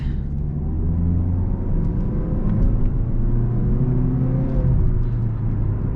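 A 2018 Mazda 3 Sport GS with a 2-litre four-cylinder engine accelerates, a steady close engine drone and road rumble rising smoothly in pitch with no voices over it.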